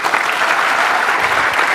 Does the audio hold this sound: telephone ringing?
no